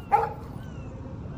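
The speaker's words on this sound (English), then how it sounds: "Oh, hi, puppy. Stop that. Stop. No barking." A dog in the video game Life Is Strange gives a single short bark or yip near the start, fairly clear over a quiet game background with a faint tone.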